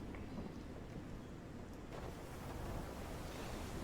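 Steady thunderstorm ambience from the video game Call of the Sea: continuous rain and low rumbling thunder, a dense, even wash of noise throughout with no voices.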